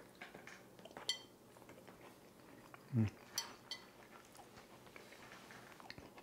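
A bite and some chewing of Dutch apple crumb pie, close and faint, with light clinks of cutlery on a plate and one firmer crunch in the middle.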